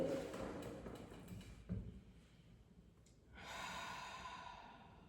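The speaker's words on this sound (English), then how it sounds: "Inhale and exhale." Slow breathing in and out during a seated chair yoga session, a soft airy inhale followed by a breathy exhale, close and quiet with no talk.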